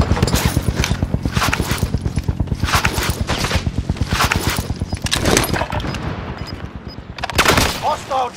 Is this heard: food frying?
no